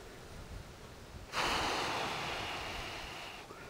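Wind gusts strongly outdoors near a flock of flapping birds by an electric fence, a sudden broadband roar that starts partway through, holds loud, then slowly eases off, with no talking.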